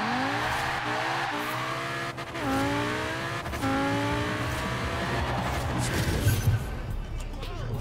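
An Audi RS7 races hard in a video game, its engine revving through repeated rising gear pulls with tire squeal, while a person talks over it.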